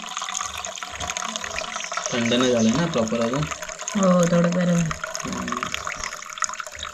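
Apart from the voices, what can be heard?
water being poured out of cooked vegetables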